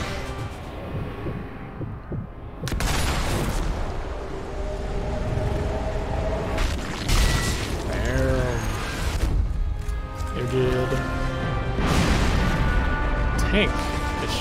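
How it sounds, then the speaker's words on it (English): Tank cannon blasts aimed at the player in the war shooter Sniper Elite V2, heavy booming shots and rumbling crashes recurring over several seconds amid dense battle noise. "Tank is shooting me."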